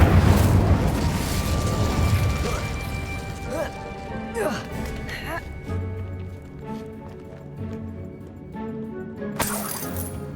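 A fiery Incendio spell blast from the video game Hogwarts Legacy bursts with a loud, crackling rush, followed by smaller crashing hits and effects layered over game music.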